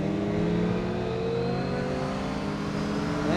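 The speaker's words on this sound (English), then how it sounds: "And roll on the throttle" Motorcycle engine on a track-day rider training run revs loudly and steadily as the throttle rolls on, pitch climbing near the end, close and continuous with no talk.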